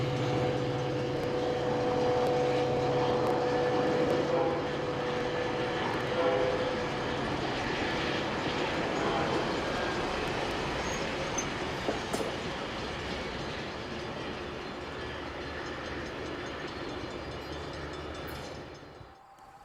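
A Metra commuter train on the former Wabash line between Chicago's Union Station and Orland Park rumbles loudly past with clattering wheels and a sustained horn, the roar fading away toward the end.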